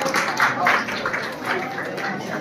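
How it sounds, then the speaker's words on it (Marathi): An audience applauds at an award ceremony in Nashik, with a dense, steady patter of clapping that swells and eases slightly throughout and is mixed with some crowd voices. "कृपया त्यांच्यासाठी जोरात टाळ्या होऊन जाऊ देत।"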